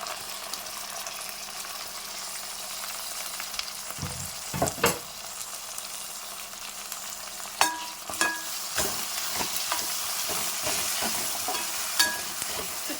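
Tomatoes and onions for a seafood fish curry fry with a soft, continuous sizzle in a pan, broken by sharp scrapes and clacks of stirring, close but fairly quiet, with no talking.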